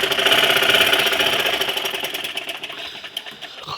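A sewing machine stitches a frock made from an old saree in one close, loud burst that slows and tapers off toward the end, with no voices.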